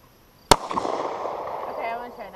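A single semi-automatic pistol shot at an outdoor ranch cracks sharply and close, then rings out in a long echoing decay, with voices faintly underneath.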